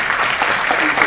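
A crowd at a public speaking academy graduation ceremony applauds as a keynote speaker is welcomed, a loud, thick wash of clapping that continues for the whole short stretch.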